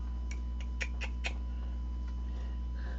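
A house cat near someone spinning and plying yarn makes a few faint, quick chirping calls in a short cluster, then goes quiet against a low steady background hum.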